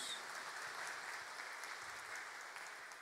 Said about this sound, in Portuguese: uma salva de palmas a todos